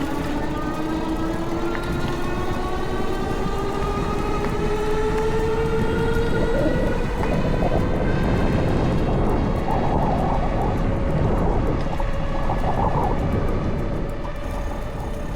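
A 20-inch foldable 48V 500W electric bike accelerates from a standstill on pedal assist 5, its motor whine rising steadily in pitch under rushing wind and road noise, loud and continuous.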